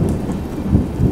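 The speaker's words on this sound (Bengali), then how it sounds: "মেঘ ডাকছে" Thunder rumbles low and continuous from storm clouds while rain patters steadily on surfaces, a loud dense wash with no talk.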